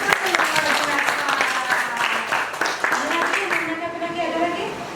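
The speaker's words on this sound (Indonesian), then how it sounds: "Beri aplaus dulu" A school class applauds in a room, with a burst of clapping from many hands that thins out as voices talk over it.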